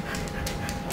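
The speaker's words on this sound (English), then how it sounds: "I heard my little dog over there. It's a Pomeranian." A small Pomeranian pants in quick, steady breaths close by, a brief rhythmic huffing with no talking.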